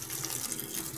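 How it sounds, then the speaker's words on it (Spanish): Hot water pours into an LG Turbo Drum washing machine, a steady, loud rushing and splashing that fills the whole second without a break. "ahí le estamos echando bastante agua caliente."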